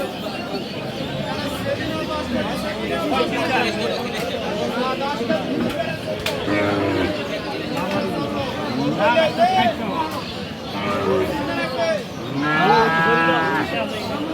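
Friesian cows low repeatedly at a busy cattle market in Aftabganj, Dinajpur, several loud drawn-out moos overlapping with the chatter of traders talking nearby.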